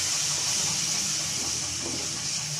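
Milk poured into besan frying in ghee for halwa, a loud, close, steady hissing sizzle that holds evenly across the short moment.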